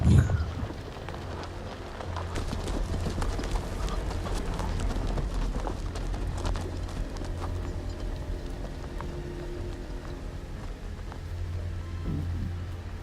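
Horse hooves clip-clop in a steady rhythm across the ground in the Game of Thrones video game, moderately close, with a low ambient hum and light patter in the background.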